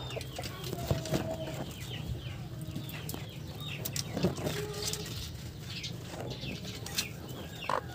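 Farm chickens cluck and call softly around a coop while eggs are being collected, scattered clucks and a little wing flapping over a quiet background, with a few faint voices.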